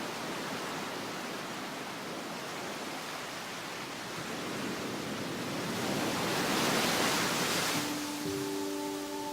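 A continuous broad wash of ocean waves, swelling slightly louder midway, with a faint tonal hum entering near the end.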